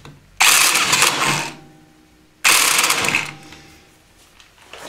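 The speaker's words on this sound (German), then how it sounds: "nun ziehen wir auch die Mutter wieder an" Two loud bursts of a power tool tightening a nut on a Peugeot Speedfight 2 scooter, each lasting about a second of rattling whirr, separated by quiet pauses.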